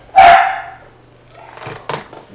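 Dogs barking close by: one loud, sharp bark at the start, then a pause and a few fainter, rougher dog noises near the end, with no talking.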